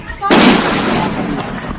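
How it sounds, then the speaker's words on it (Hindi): A thrown bomb bursts near a house in a street attack, a sudden loud blast that decays into a long rumbling roar. "उसके बम फेंकते ही वहां जोरदार धमाका हुआ।"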